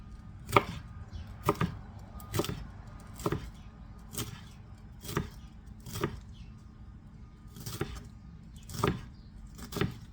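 A knife slices cabbage thinly on a cutting board for coleslaw, giving sharp, evenly spaced chops about once a second, close and fairly quiet with no talking.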